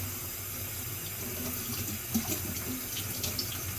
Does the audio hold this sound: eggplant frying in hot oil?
no